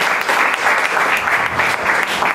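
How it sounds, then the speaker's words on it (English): Audience applause at a Rotary Club youth exchange presentation, a dense, loud stretch of clapping from a crowd, steady with slight swells throughout. "I think he deserves a big round of applause"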